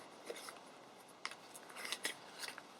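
Scissors snip through thrift store ribbon in a few quick, close, quiet cuts with soft rustling of the ribbon between them.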